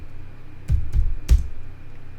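Three crisp clicks from a computer keyboard as a terminal command is typed: a few separate keystrokes, close and fairly loud, over a low background hum.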